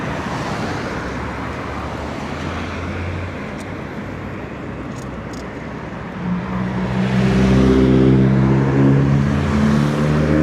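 Steady street traffic near a Las Vegas resort, cars rolling past in a continuous rumble, with one vehicle swelling louder and closer toward the end; no talk.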